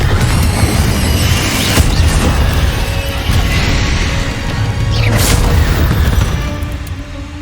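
Explosion spell in the game Hogwarts Legacy, fought in a spider-filled cave: loud crashing blasts and bangs over a busy, cluttered battle din.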